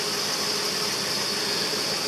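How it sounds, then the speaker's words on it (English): A generator runs a battery charger beside a cold tractor, holding a steady, continuous mechanical drone with a bright hiss throughout and no change in pace or loudness. "As you can hear, I've got a generator running here on the battery charger."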